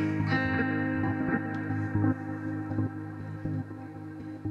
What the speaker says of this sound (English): Now I've just put a slicer in.